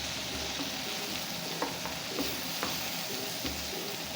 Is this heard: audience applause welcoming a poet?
no